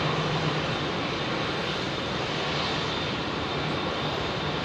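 An Airbus A380 jet departs from runway 27R at London Heathrow, a loud, steady, close-up roar of engines that fills the whole clip without letting up, with no voices.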